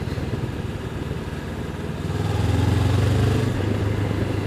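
A Honda CB500X parallel-twin motorcycle engine accelerates in fourth gear. Its steady, throbbing rumble is heard under wind noise, rising and growing louder from about two seconds in as the revs climb.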